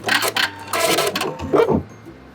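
A sewing machine back stitches at the end of a shirt hem, giving a loud, close run of mechanical whirring in short bursts for a couple of seconds before stopping.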